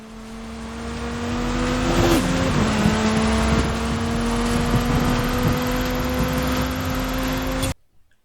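A tuned Chevy Impala drives in Forza Horizon 5, its engine holding a loud steady drone with a brief pitch dip midway before cutting off abruptly near the end.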